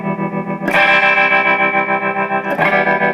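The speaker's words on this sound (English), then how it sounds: "I'm just turning up this frequency of the ring mod." A Moog Moogerfooger ring modulator with its frequency turned up, giving a loud, buzzy, metallic tone with dense clashing overtones that suddenly brightens and then shifts again near the end.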